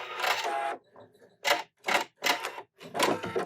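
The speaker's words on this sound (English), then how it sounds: "So we sew, the needle is still moving, I hit the cutter, it is locking, and then it is going to cut" PFAFF Performance Icon sewing machine stitching, then its thread cutter locking and cutting: a long mechanical buzz followed by several short, rhythmic bursts of whirring and clicking, close and fairly loud, with silent pauses between them.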